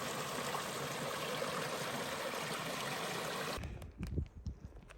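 Continuous rushing and trickling water of a tiny creek, steady and close, cutting off near the end into a few knocks and rustles.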